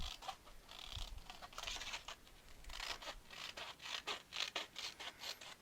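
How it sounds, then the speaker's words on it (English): Scissors snip along paper during a scrapbooking craft, cutting out a pocket for a Simple Stories album: a quick, quiet run of crisp, rhythmic cuts and rustles, with no talking. "So I'm going to cut that out, and I just use my scissors."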